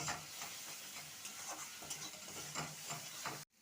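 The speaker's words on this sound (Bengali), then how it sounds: "মশলাটাকে ভালো মতন কষিয়ে নেব" Turmeric, coriander and cumin powder being sautéed in hot oil, a steady close sizzle with repeated scraping stir strokes, stopping abruptly at the end.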